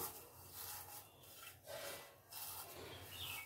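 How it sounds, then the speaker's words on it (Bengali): Fried neem leaves crushed and rubbed between the hands: quiet, dry, papery rustling that comes in a few rasping swells, close by and without speech. "এই যে নিম পাতাটা ভেজে রেখেছি এটাকে হাত দিয়ে ভালো করে গুঁড়ো করে নিলাম"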